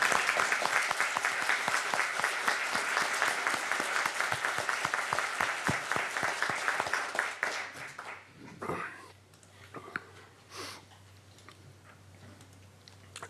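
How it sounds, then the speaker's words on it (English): An audience at a city council meeting applauds with dense, close clapping for several seconds, which thins into scattered claps and fades under faint room noise. "So I'd like to give you all a round of applause for that."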